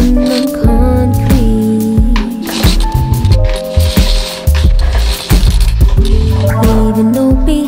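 A ratchet clicks in quick runs while a motorcycle sprocket is changed in a garage, loud and close, with a song playing over it.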